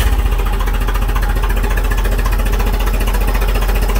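A 2001 Duramax LB7 diesel engine cranking without firing, a loud steady mechanical churn with a rapid even pulse throughout and no catch.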